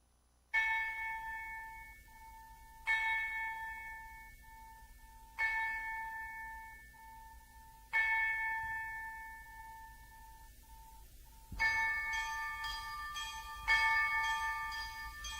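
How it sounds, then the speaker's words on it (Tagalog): Church bells ring in slow, evenly spaced strikes, each one resonant and dying away, before a denser flurry of overlapping chimes near the end, moderately loud and alone. "Kampana ng simbahan ay nanggigising na"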